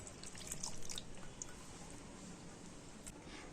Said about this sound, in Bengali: আর ওই ভাতের মধ্যে হাফ বাটি জল দিয়ে দেব।